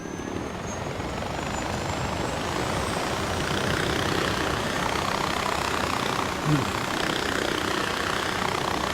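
A helicopter engine in the video game Far Cry 4 roars as a loud, steady, continuous drone for the whole stretch, with a player's voice talking over it.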